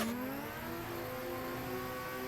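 A sim-racing car engine revs steadily through a lap in a drift setup, a continuous whining drone with shifting pitch and tyre hiss, loud and close, no talk.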